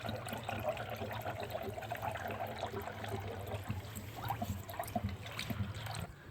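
Coolant trickling and pouring into the radiator of a Dodge Dart with a 1.4L turbo engine, a steady close liquid dribble with a low running hum underneath and no talk.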